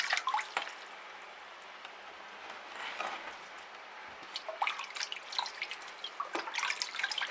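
Liquid fertiliser solution poured gently into a potted orchid's roots, a soft trickle with scattered drips and splashes, quiet and close with no voices.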